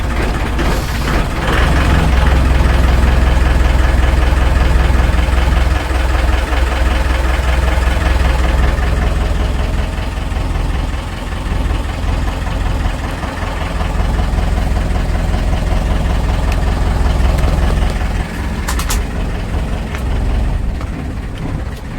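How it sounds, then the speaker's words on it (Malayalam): A boat's engine runs steadily on the backwaters, a continuous low, heavy rumble that keeps a constant drone throughout, close and fairly loud with no talking over it. "ബോട്ട് പോവാണ്"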